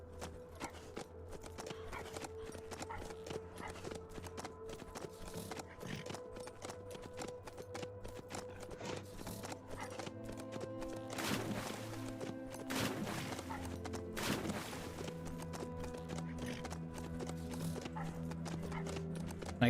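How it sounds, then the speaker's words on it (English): Horse hooves clip-clop at a steady riding pace in the zombie survival game HumanitZ, with continuous rhythmic footfalls and occasional snorting or whinnying over a game soundscape. "that's the horse making a lot of fucking noise"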